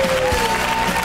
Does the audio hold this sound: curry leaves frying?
no